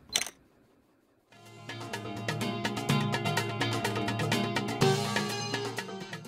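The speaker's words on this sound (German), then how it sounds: "dann richten Sie die Kamera auf den eigentlichen Bildausschnitt und drücken den Auslöser" A Canon EOS 7D shutter release fires once, a single short sharp click right at the start, soon followed by steady background music.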